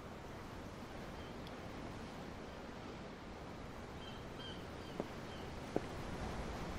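Ocean waves in Tales of Arise, heard from aboard a ship as a steady, broad wash of surf and wind, even and continuous, with a couple of faint brief clicks and no talk.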